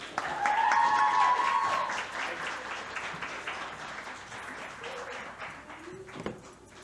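Warm audience applause welcomes a speaker giving a talk on COVID-19 and perinatal mental health. Loud, dense clapping starts strong and gradually thins, with a few whistles early and scattered claps near the end.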